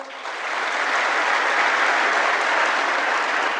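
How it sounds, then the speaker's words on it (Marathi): Loud, sustained audience applause fills the space after a Marathi motivational speaker's talk, a dense steady wash of many hands clapping that swells in the first half-second and holds evenly throughout. "जोरदार टाळ्यावर एकदा डबल"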